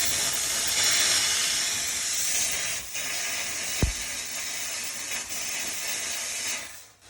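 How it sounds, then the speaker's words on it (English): A steady, loud hiss of pressurized steam from a Dupray Tosca steam cleaner on maximum pressure runs throughout, with a brief low thump partway through and the hissing cutting off at the end. "I have my steam on maximum pressure"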